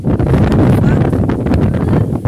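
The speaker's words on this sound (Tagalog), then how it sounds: "Tapos ang hangin." Heavy wind buffets the microphone at Mayon Volcano's Skyline, a loud, continuous rumbling roar, close and unbroken throughout.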